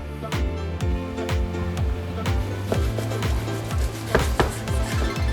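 A knife cutting a long salmon in half before salting and smoking it, heard as a close, steady series of rhythmic sawing strokes about every half second, with no one speaking.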